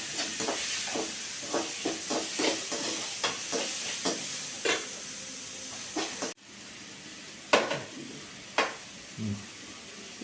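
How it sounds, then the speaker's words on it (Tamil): Green chillies, tomatoes and curry leaves sautéing in a pan for mutton trotter rasam, with a steady sizzle and frequent spoon scrapes and stirring clicks, briefly quieter partway through before the scraping resumes, no talking. "இது எல்லாத்தையும் சேர்த்து நல்லா வதக்கிக்கலாம்."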